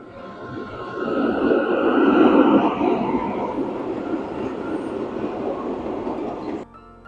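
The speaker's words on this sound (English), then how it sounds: "this is the train which goes to Grainau and onwards onto the Zugspitze" A train bound for Grainau and the Zugspitze passes nearby in Garmisch-Partenkirchen, a steady rolling rumble that swells, holds for several seconds and cuts off abruptly near the end.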